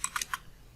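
Fingers tapping keys on a computer keyboard while writing C++ code, a quick burst of three or four crisp, close clicks in under a second.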